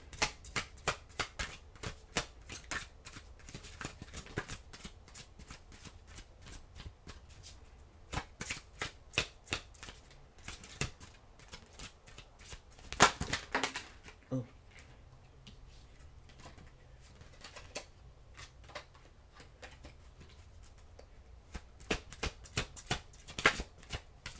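Oracle cards shuffled continuously by hand, a long run of crisp riffling flicks and soft slides in uneven bursts, close and fairly quiet, with no talking.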